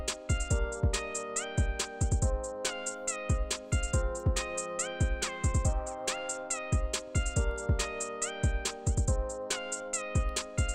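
Electronic music production with chords and melody played at double time, a steady fast rhythmic pattern of repeated synth notes looping continuously without any voice.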